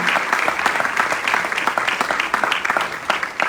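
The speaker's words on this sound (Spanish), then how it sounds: "Le brindemos un fuerte aplauso, por favor, a Patti." An audience at an entrepreneurship conference in Comitán, Chiapas bursts into loud, steady applause, close and dense with many hands clapping for a few seconds.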